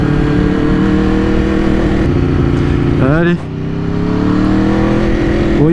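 An Aprilia RSV4 RF sport motorcycle engine drones steadily, then briefly drops and revs back up with a rising whine, while someone speaks a short word over it.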